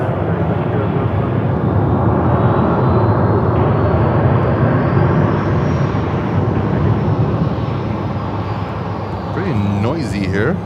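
An American Airlines 737 lands on runway 36 left at Charlotte airport, a loud, steady jet engine roar filling the whole stretch with a slowly shifting whine and a rising rumble near the end.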